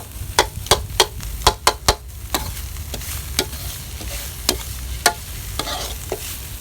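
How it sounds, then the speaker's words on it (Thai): Curry ingredients for a Thai jungle-style fish curry are stir-fried in a pan, with sharp repeated scrapes and knocks of a spatula over a steady low sizzle, busiest in the first two seconds and then spaced out. "ผัดสักหน่อยแหละ"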